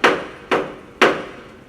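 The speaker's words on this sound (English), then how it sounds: "I pound on the door." A door is pounded with three heavy, evenly spaced blows, each a sharp booming thud that rings out briefly, close and loud, with nothing else around them.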